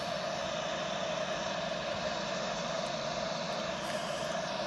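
A steady, continuous roar of airliner jet engines as the plane taxis toward the runway, a broad even drone with no voices and no change in level throughout.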